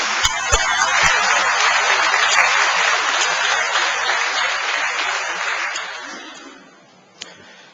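A church congregation applauds at a pastor's installation ceremony, with sustained loud clapping that fills the room for several seconds, then tapers off and fades near the end.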